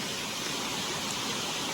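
Steady broadband rush of water at a jungle waterfall on an island, heard alone and close, continuous and even with no talk.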